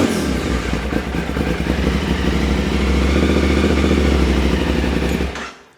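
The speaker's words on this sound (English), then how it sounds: "The sound of an aftermarket exhaust just cannot be beat." An adventure motorcycle fitted with an aftermarket exhaust idles and revs loudly up close, a deep, throbbing engine note that swells steadily before cutting off abruptly at the end, with no talking.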